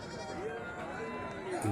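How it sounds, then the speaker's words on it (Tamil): Goats bleat amid the bustle of a busy livestock market at Melapalayam, several overlapping calls rising over crowd noise while people talk nearby throughout. "நம்ம இப்போ எங்கே இருக்கோம்னா மேலப்பாளையம் ஆட்டு சந்தைக்கு வந்திருக்கோம்"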